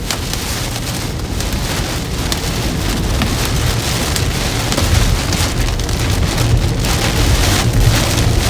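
Heavy rain pounding down inside a rain-wrapped, tornado-producing supercell thunderstorm in South Dakota, a loud steady hiss and drumming on surfaces that builds slightly toward the end, with no talk.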